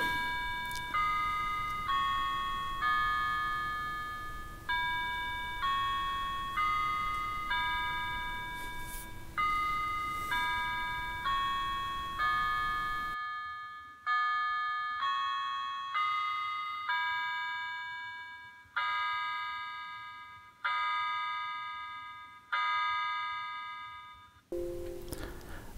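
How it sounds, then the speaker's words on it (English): A modern pendulum wall clock of quarter-inch maple with walnut lettering rings out a Westminster chime, a clear sequence of bell-like tones in groups, loud and close with ringing decay, alone without talk. "this is a modern take on a Westminster Chime clock"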